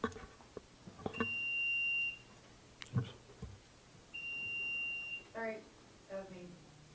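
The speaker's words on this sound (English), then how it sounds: "I take it that's the timer?" A timer beeps in a planning and zoning commission meeting room, two sustained electronic tones each lasting about a second, with voices talking around them.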